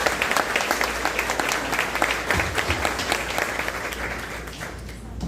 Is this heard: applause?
yes